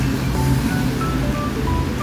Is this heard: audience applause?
no